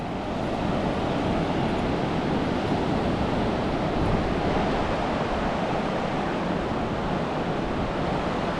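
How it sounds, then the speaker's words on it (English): Ocean surf rolls steadily onto a quiet beach in Florence, Oregon, a loud, continuous wash of breaking waves with wind noise and no voices. "we're at the beach, guys."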